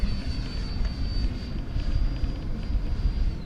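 An HSD 90mm Viper Jet RC model jet makes a full-throttle high-speed pass down a runway. Its steady, whining turbine roar holds for several seconds at moderate distance, with a thin high tone across the pass and no talking.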